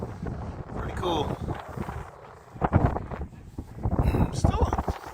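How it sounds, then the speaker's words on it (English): Gusty wind sweeps across open sand outdoors, buffeting and roaring in uneven bursts close to the listener, with occasional faint voices under it. "Look at the way the wind's blowing the sand."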